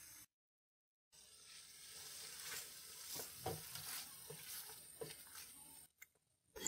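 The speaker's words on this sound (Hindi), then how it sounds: "चिकन को हम प्याज के अंदर अच्छे से फ्राई करेंगे।" Chicken fries with onions in a karahi for Balochi tikka karahi, producing a dense, steady sizzle and crackle with stirring scrapes, after a brief silent gap at the start.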